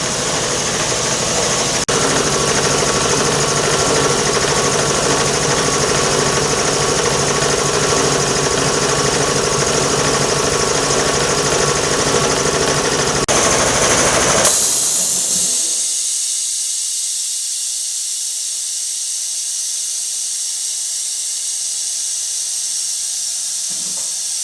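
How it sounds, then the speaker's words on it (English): An air compressor for a sandblaster runs steadily and loudly, building pressure with a dense hissing drone that then drops off to a quieter hum. Nobody speaks. "we're going to build up some pressure here with the air compressor"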